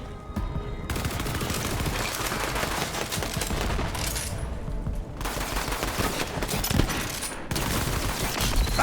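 Rapid bursts of automatic and single gunfire from Borderlands 3, loud and nearly continuous, with short pauses between volleys and scattered impacts.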